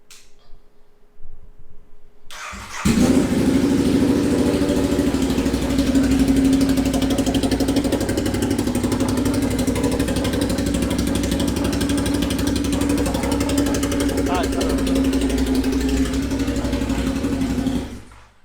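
A Ducati Diavel motorcycle with a welded exhaust tip starts up and settles into a loud, steady, throaty idle nearby. The engine runs for about fifteen seconds with a few revs and then shuts off.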